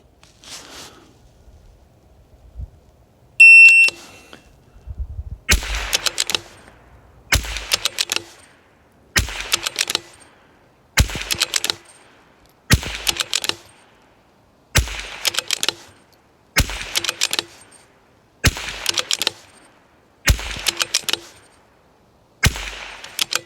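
Target rifles, a Victrix and an Anschütz, fire a series of about ten sharp, evenly spaced shots, each crack followed by a short ringing decay, with quiet gaps between.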